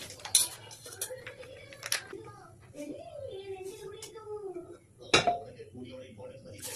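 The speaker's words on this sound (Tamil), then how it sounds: "பக்கத்தில் இன்னொரு பேன் வைக்கிறேன்" A metal pan clanks down onto a stove for tempering rasam, followed by more kitchen clatter while a person talks.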